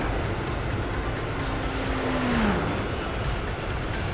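Engine of a race car in Gran Turismo 4 held in fifth gear through a big speedway corner, a steady loud drone with a single rising-then-falling whine near the end and no talking.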